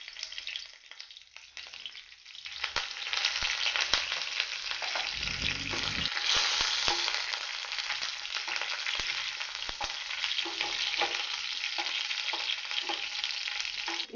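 Curry leaves sputter in hot tempering oil with cumin and mustard seeds for oats upma, a dense steady sizzle that swells after the first couple of seconds and holds loud and close, with a brief low clatter of stirring partway through.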